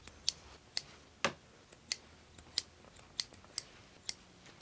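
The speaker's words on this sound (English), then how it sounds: "Let's go ahead and cut these threads." Sharp scissor snips cut loose threads on a long strip of joined 2.5-inch quilting sashing fabric: about nine crisp, close clicks in an uneven rhythm over a quiet room.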